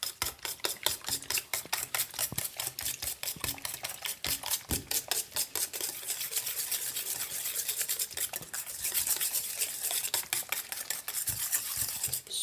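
Ingredients for a skillet pizza being crushed and mixed in a bowl, a rapid, dense series of close clicking and scraping strokes that continues steadily throughout.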